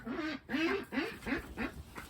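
Ducks quack in a garden, five or six loud, close nasal calls in a steady rhythm, each a short raspy burst with brief gaps between.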